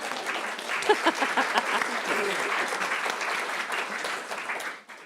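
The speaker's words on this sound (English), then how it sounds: "Give her a round of applause." Audience at the Royal Society in Edinburgh applauds after a talk on the 1935 Moffat murders, sustained clapping from a room full of people that tapers off at the end, with a brief voice early on.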